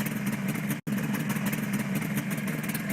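A Royal Enfield three-cylinder motorcycle engine runs steadily and loudly close by, a continuous mid-pitched drone broken by one very short dropout, with no voices over it.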